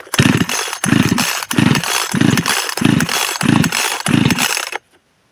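A petrol chainsaw with a starter problem is pulled repeatedly with the choke on, giving about eight rhythmic loud ratcheting pull bursts that end abruptly in silence without the engine catching.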